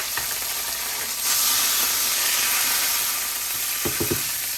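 Butter sizzles in a hot pan heated to medium for chorizo cornbread stuffing, a steady broadband hiss that swells louder after a second and holds, with a few clicks and knocks near the end.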